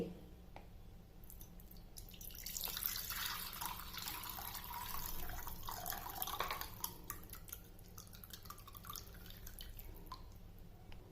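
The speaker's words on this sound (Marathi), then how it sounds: "ते दुधाचं मिश्रण मी आता गाळून घेते" Milk and jaggery mixture being strained, a soft trickling and dripping of liquid through a strainer that swells in the middle stretch, faint and close in a quiet kitchen.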